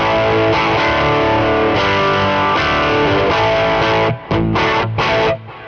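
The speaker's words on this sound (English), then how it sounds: "Here's the distortion side of the King of Kings." A loud electric guitar through the distortion side of a King of Kings pedal plays thick, saturated chords that ring out, then cut off abruptly in a few choppy stabs at the end.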